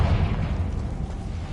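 A Confringo blasting spell detonates in Hogwarts Legacy, a heavy low boom that rumbles and slowly fades over a second or so, loud and close, with no speech.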